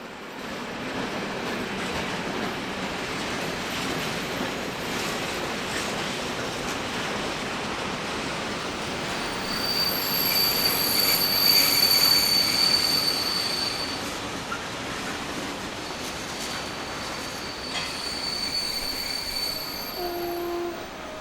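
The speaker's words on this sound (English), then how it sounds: "This cargo service sees 363, 515 and 503 at the helm." A Czech freight train led by locomotives 363, 515 and 503 passes Prague Liben station with long high-pitched wheel squeals over a steady rolling rumble. The sound swells as the train draws nearest midway, then eases off, with no talking.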